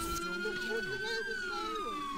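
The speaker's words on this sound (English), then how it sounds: "Turn off your siren." A wailing police-style siren in the game A3PL rises and falls steadily, loud and close, with other game-like sounds and faint talk underneath.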